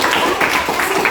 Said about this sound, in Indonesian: Kita langsung tepuk tangan dulu untuk kalian semua.